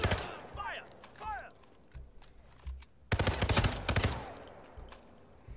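A cannon fires in the video game Hitman: a burst of rapid, loud booms cuts in midway, while scattered thuds, a couple of brief voice-like chirps and game noise fill the quieter stretches around it.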